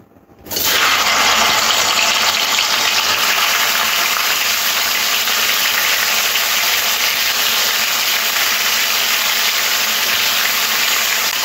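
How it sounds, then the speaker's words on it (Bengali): Okra dropped into hot oil in a pan bursts into a loud, hissing sizzle that starts abruptly and holds steady and close throughout. "এরপরে ঢ্যাঁড়সগুলোকে তেলের মধ্যে দিয়ে লাল লাল করে ভাজতে হবে।"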